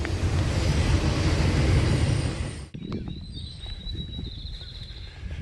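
A heavy, low rumbling roar of a train rolling past at night, ending abruptly and leaving a quieter background with a faint high whine.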